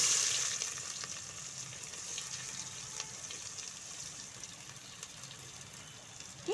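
Chopped onions drop into hot oil with popped mustard seeds for a village-style chicken kulambu, giving a steady, bright sizzle that fills the whole stretch with a faint crackle of spattering and no voices.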